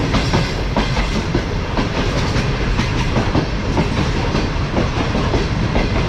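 The Tezgam passenger train runs along the tracks near Rawalpindi, with loud, continuous rumbling and rhythmic clickety-clack of the wheels heard from on board. There is no talk.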